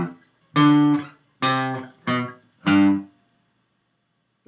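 An electric or acoustic guitar plays the second section of a riff as four separate single notes, each held briefly and separated by short gaps, clear and close with no talking.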